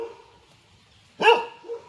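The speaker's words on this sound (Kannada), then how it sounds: "ನೋಡಿ, ನಾಯಿ ಬಂದೈತೆ" A single sharp dog bark rings out close by against a quiet rural outdoor background, with a softer trailing yelp just after.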